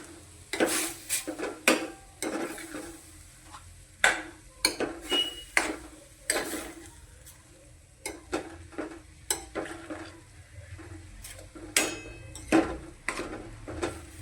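A spoon scraping and clinking against a pan while leftover roti pieces are stirred with homemade tomato ketchup, irregular close knocks and scrapes with quiet gaps, no talking.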